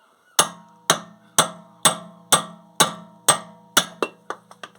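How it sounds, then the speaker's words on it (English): Large chisel struck by a hammer while removing a Vauxhall Astra rear axle bush: eight evenly spaced loud metallic blows ringing close, followed by a few quicker lighter taps at the end. "Now I got a larger chisel on here, and I'll try not to hit the camera."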